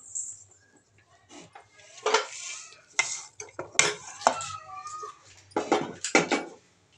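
A laddu mixture of peanuts, flattened rice and jaggery with dry fruits being stirred in a pot, giving irregular scraping and clinking of a spoon against metal, close and fairly quiet.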